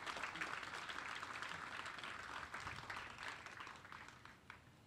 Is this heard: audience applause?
yes